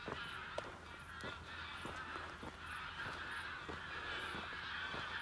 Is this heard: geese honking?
yes